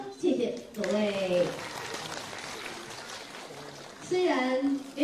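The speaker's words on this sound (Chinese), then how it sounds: "我们掌声谢谢他们哈" An audience at a film premiere bursts into sustained applause for several seconds, with a person speaking into a microphone just before and after the clapping.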